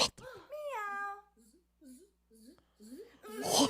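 A person's voice imitates a cat with a drawn-out meow, near and fairly loud, followed by a few softer short mewing sounds and a burst of talk at the end.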